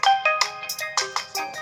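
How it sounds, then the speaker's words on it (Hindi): Ringtone melody played through the dual speakers of a Tecno Spark 20C phone, a bright, loud run of tonal chimes and notes repeating in quick succession, heard alone. "ड्यूल स्पीकर की आप साउंड चेक करें, सुने, बहुत अच्छी इसकी साउंड है।"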